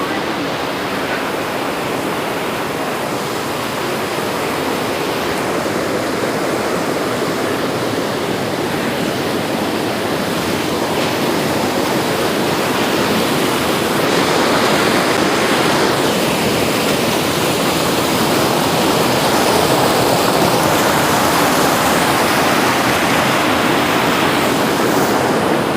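The Yamuna river near Yamunotri rushes past in a steady, loud roar of flowing water close by. It holds constant for the whole stretch, with a faint swell in the second half and no clear voices.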